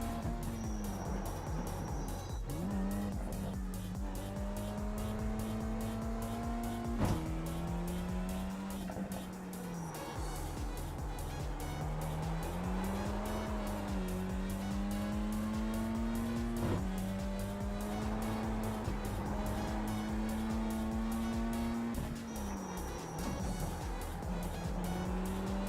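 Race car engine in the iRacing simulator revs high and drops through repeated gear shifts around a lap, a steady close drone with rising whines, downshift dips and occasional tire squeal, no talk.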